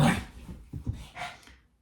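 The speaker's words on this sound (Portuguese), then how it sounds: "Meus cachorros." A dog huffs and gives a few soft, low woofs and snuffling breaths nearby, fairly quiet.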